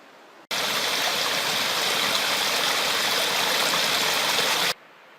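A river flowing beside a hiking trail, its steady close rushing water a loud, unbroken wash that begins abruptly and cuts off just as suddenly, with no voices.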